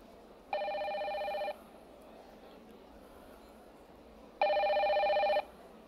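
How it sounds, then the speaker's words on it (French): A telephone rings in two separate one-second electronic bursts, the second starting about three seconds after the first, each steady and clear over a low background hiss. "J'ai envoyé mon CV, le téléphone sonne"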